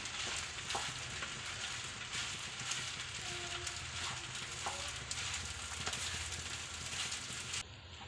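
Chicken fried rice tossed and mixed in a hot pan gives a loud, continuous sizzle with scraping stir strokes throughout, close and unbroken until it drops off near the end.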